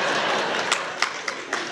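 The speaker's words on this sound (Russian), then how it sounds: "Он хлопает." A man claps his hands, four distinct claps spaced roughly a quarter second apart, rising over a steady background of room noise.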